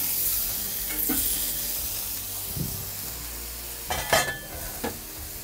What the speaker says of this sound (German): Jetzt auch noch von der Seite ordentlich anbraten.